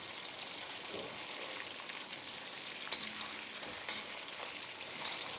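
Chicken pieces frying in oil in a pan for karahi chicken, giving a steady, fairly quiet crackling sizzle with a few sharper pops and no voices.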